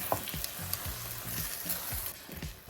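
Palak spinach chicken curry stirred in a pan, a quiet close sizzle under repeated low scraping strokes from the spoon.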